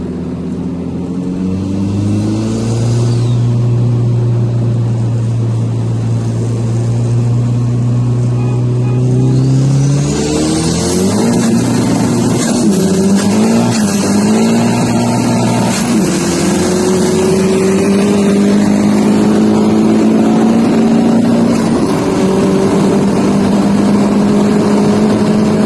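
A Volkswagen 20-valve 1.8T turbocharged engine drones steadily, then its pitch sweeps up and down through several revs before settling into a higher sustained hum, loud and close throughout.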